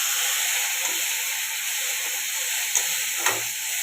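A loud, steady sizzling hiss comes from khaikhya fish paste frying in a pan after hot water is added, with a few faint scrapes and clinks near the end.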